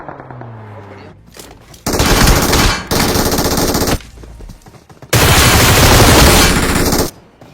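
Bursts of rapid automatic gunfire from a battle royale video game, loud and close, coming in three long sustained volleys separated by short gaps, with a brief low swooping sound before the first burst.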